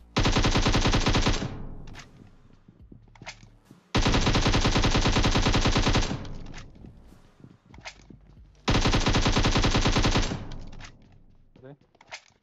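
Bursts of automatic gunfire in the mobile battle-royale game PUBG Mobile, three long loud volleys with quieter shots and footsteps between them.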